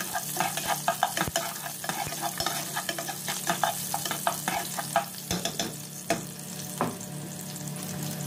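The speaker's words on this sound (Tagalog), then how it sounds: "Igisa-gisa muna natin mga kauragon yung bawang." Garlic sautés in a pan until light brown for beef-shank adobo, giving a soft continuous sizzle broken by sharp clicks and scrapes of a utensil stirring against the pan.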